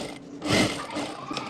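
Sewing machine stitching cargo trouser fabric for a child's garment, a faint, brief mechanical whir with light ratcheting clicks, swelling briefly then fading, close but quiet.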